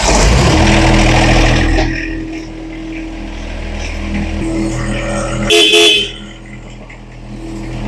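Horn of a John Deere 1025R compact tractor sounding over its running engine, a steady held honk lasting a couple of seconds close by, then the engine idling on with a brief louder blip near the end.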